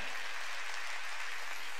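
A church congregation claps along during a Wednesday worship service, a steady wash of many hands at moderate volume with no voices over it.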